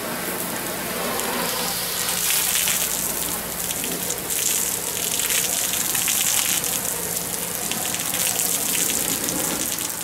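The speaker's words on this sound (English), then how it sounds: "So we're just going to give it a good rinse" Water gushes steadily from a hose rinsing a camper awning outdoors, a constant loud hiss and splatter with no break.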